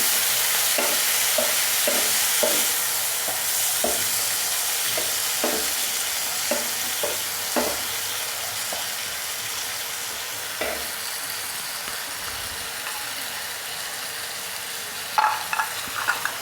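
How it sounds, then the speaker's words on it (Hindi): Ginger fries in a pan with a continuous bright sizzle and hiss, punctuated by repeated light scraping and stirring knocks spread through the passage and a small cluster of clatters near the end. "और इसमें थोड़ा सा डालेंगे हम अदरक, तो इसको थोड़ा सा फ्राई कर लेंगे।"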